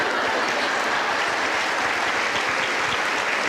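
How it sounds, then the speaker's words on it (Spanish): Loud, dense applause from a theater audience at a storytelling show, a steady roar of many hands clapping close up with no break. "Hasta ovación, Chati, ya viste."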